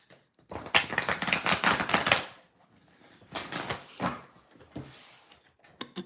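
A deck of tarot cards is shuffled close up in two bursts of rapid riffling clicks separated by a pause, followed by a few scattered light taps.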